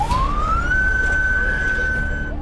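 An ambulance siren carrying a patient through traffic wails loudly and steadily, rising in pitch and then holding, over a constant roar of road traffic.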